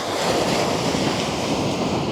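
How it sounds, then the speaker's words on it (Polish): Rough sea surf breaking near the shore off Sri Lanka at a coastal fishing spot, a steady, loud, close wash of churning water blended with gusty wind noise, continuous with no clear pauses and no voices. "Teraz już przez to najbardziej wzburzone morze, na tą falę przybojową"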